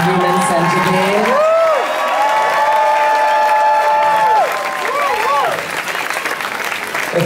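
Audience applause and cheering at a drag show in a club, a loud sustained clapping crowd with whoops, under which a performer's amplified voice speaks throughout.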